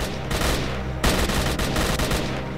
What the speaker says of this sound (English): There's some gunfire.